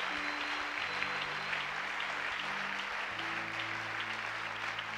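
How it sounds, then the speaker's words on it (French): Church congregation clapping steadily and loudly throughout, with a continuous dense applause texture and sustained tonal voices or music beneath. "Acclame bien, acclame bien."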